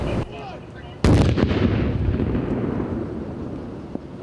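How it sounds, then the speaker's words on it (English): A controlled detonation of picric acid explosive at a safe remote site: one sudden loud, deep boom that rumbles and slowly decays for several seconds, heard from a moderate distance outdoors. "All the picric acid was then brought to a safe location to be detonated away from the public."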